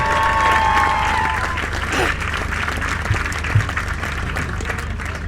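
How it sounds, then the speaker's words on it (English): Crowd applause and cheering at an outdoor Highland Games in the Peak District, a steady wash of clapping from the spectators with some voices mixed in and a couple of louder thumps near the end. "big round of applause there for Speedman"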